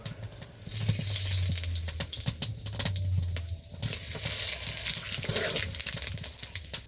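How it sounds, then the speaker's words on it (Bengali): Dry red chillies, cardamom, cinnamon, cloves, cumin seeds and bay leaves sizzling and crackling in hot oil, a steady close frying hiss with stirring clinks throughout and no voices. "তেলটা গরম হয়ে গেলে ফোড়নে দেব শুকনো লঙ্কা এলাচ দারচিনি লবঙ্গ গোটা জিরে তেজপাতা"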